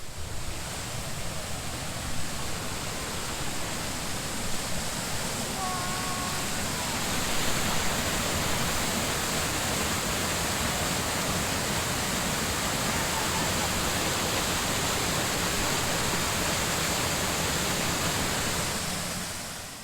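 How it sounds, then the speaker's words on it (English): Water rushes from a pipe below a dam near a fish hatchery at Greers Ferry, Arkansas, in a steady, loud roar, a dense unbroken wash that swells slightly partway through and carries on alone. "we're going to take you down there with us to see this loud water"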